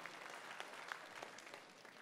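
A pageant audience at a swimsuit competition claps in a steady, moderate wash of applause, fairly distant and even throughout, with no voices on top.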